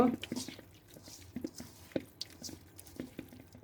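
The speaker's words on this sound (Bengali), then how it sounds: "হাফ কাপ তেল দিলাম। তেল দিয়ে একটু মেখে নেব।" Soft wet squishing and dripping as river fish (boilari) are mixed by hand with half a cup of oil for a chorchori, irregular gentle squelches close by.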